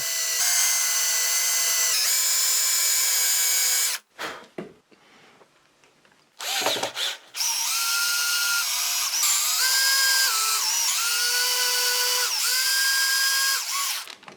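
A power drill drives reinforcement screws into a wooden jig for jigsaw cuts, with a long loud whine, then a short pause and a brief burst, then another sustained run with rising and falling pitch.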